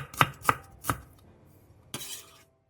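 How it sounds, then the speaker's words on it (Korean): A knife chops cucumber, chives, onion and green onion on a cutting board: three quick, close strikes, a short pause, then one more chop, with no voices. "오이와 부추는 비슷하게 한입 크기로 자르고 양파는 얇게 채 썰어주고 대파는 짧게 쫑쫑 어슷 썰어 준비해주세요"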